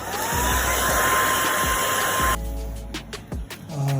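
A hair dryer blows steadily and loudly up close, drying a fresh colour coat on scratched leather being restored, then its tone drops abruptly as it is moved or switched to a lower setting.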